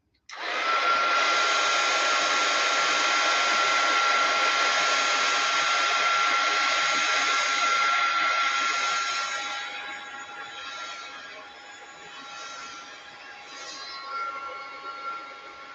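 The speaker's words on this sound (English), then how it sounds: "So I'm going to turn the heat gun on" A heat gun blowing to warm glue on a journal cover, a loud steady whooshing roar with a high whine that switches on abruptly and fades to a softer blow after several seconds.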